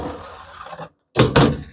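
Door of a marine electric oven swinging partway open and catching in its locked position, a single solid clunk that follows a stretch of nearby talk and a short silence.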